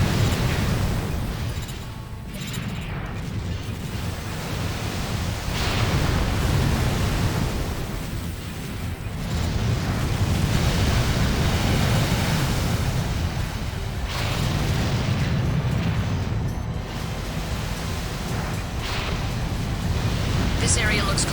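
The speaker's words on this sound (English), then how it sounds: "Ooh, the sound of the sniper cannon is very satisfying." Sniper cannon blasts from the mech game Armored Core: For Answer boom through a dense, roaring wash of battle noise, several heavy shots spaced apart.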